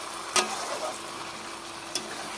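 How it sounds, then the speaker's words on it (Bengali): Mutton being stir-fried with spices in a pan, a low, quiet sizzle running steadily with two sharp scraping clicks from stirring. "মটনটা মশলা দিয়ে কিছু কষানো হয়ে গেল"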